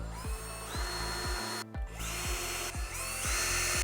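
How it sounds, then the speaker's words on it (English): A power drill pre-drills 6 mm holes in timber for a bench seat, its motor whining in repeated short bursts with brief pauses between, close and loud with no talking. "Now we're going to finish pre-drilling the rest of our holes."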